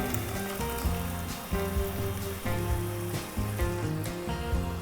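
Ground masala paste sizzles steadily in a pan with fried onions for paneer butter masala, a continuous close crackling fry under a low sustained musical hum, with no talking.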